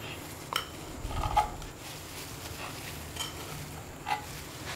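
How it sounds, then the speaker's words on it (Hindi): A knife cuts through bread slices while making bread aloo paratha, giving faint clicks and taps against a board. The sounds are soft and sparse over a steady background hiss. "तो इसी तरह से हम बाकी जो स्लाइसेस हैं उनको भी काट लेंगे।"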